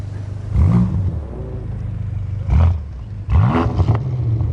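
Renault R.S.01 race car with a big rear-mounted engine, revving in three loud bursts over a steady low idle rumble, close by.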